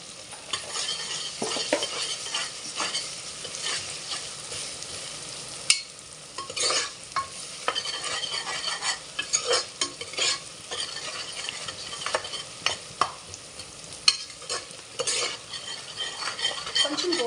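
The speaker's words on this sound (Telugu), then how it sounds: "ఫుడ్ కలర్ వచ్చేంత వరకు ఉల్లిపాయ పచ్చిమిర్చి వేగనివ్వాలండి" Onion, green chili and ginger frying in oil for mutton curry, with a spoon repeatedly scraping and clinking against the pan over a soft steady sizzle, close by and free of speech.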